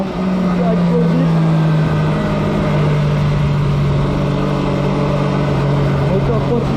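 An MV Agusta Rivale 800 motorcycle's 800 cc, 125-horsepower three-cylinder engine runs, holding a loud, steady low drone throughout with little change in pitch.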